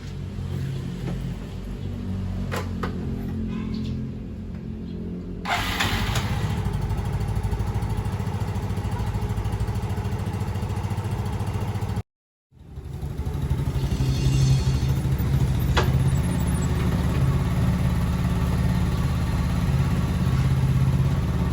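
A 2011 Yamaha Fino scooter engine starts after a gear oil change and settles into a steady, mid-pitched idle that runs on for a long stretch, with one brief dropout and no talking.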